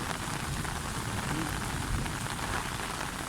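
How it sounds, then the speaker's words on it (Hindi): Steady rainfall pattering on surfaces outdoors, a continuous dense hiss of drops with no pauses, fairly close and even in loudness throughout. "ये देखो ये कैसे बारिश हो रही है।"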